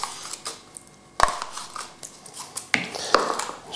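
Ricotta cheese stirred into a vegetarian lasagna mix, with a spoon clinking and scraping against a bowl in several sharp, irregular taps amid soft mixing sounds.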